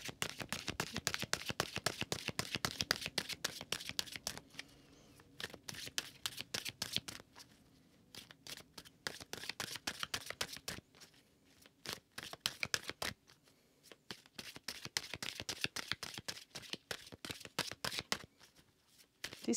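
Tarot cards being shuffled by hand in repeated riffling bursts, a dense crackle of card edges with short pauses between rounds, close and clear with no talking.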